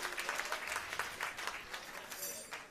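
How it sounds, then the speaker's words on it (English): Audience at a corporate comedy magic show claps in a steady burst of applause, moderately loud and dense throughout, with no other sound standing out. "Give him a nice big round of applause."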